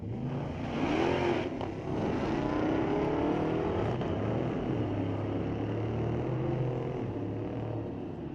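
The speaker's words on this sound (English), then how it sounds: "Dodge with a little bit of spin on the start line, but still musters the win with a 12:45 at 140." At a street-legal drag race at Mission Raceway Park, a Dodge launches off the start line with slight wheelspin alongside an S10 pickup truck, and loud engines roar and rise in pitch as they accelerate away.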